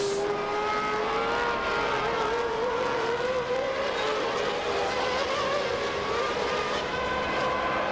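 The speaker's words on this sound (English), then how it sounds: "There's Frentzen and 2 other cars shortcutting the chicane" Formula 1 cars racing at the 1998 Italian Grand Prix at Monza, a continuous high engine whine that rises and falls as cars pass, heard at a distance over crowd and track ambience.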